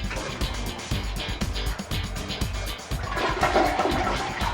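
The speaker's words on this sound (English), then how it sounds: "Give it a flush." A household toilet flushes during a room renovation, its rushing water washing steadily through the whole stretch at moderate loudness and swelling toward the end.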